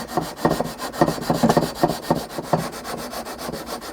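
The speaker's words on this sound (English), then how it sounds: "you start to sand the fretboard and you start to see some black dust coming off" A wooden guitar fretboard is sanded by hand in close, rhythmic back-and-forth strokes, a steady raspy scraping repeated about every half second, with no talking.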